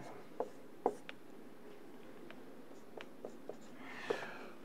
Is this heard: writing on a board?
yes